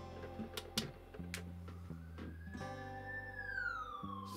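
Toy police car siren, electronic and fairly faint, opening with clicks and ticks before a rising then falling wail takes over, heard alone without talk.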